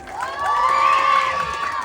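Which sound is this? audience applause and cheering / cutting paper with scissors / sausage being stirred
audience applause and cheering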